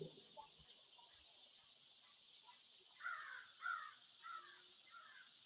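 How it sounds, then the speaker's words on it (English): Crows caw outdoors in a series of four or five harsh calls spaced about half a second apart, moderately loud over a faint steady background hum. "I hear the birds."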